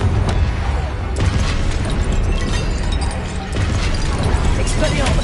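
A Confringo explosive spell bursts in a Harry Potter video game, a dense, sustained roaring blast that stays loud and even throughout with no break.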